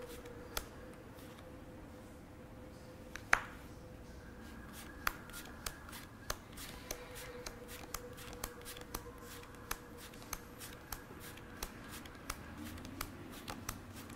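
A deck of playing cards is handled during a card trick, with soft, regular clicks and flicks of cards repeating every half second or so, faint and close, with no talking.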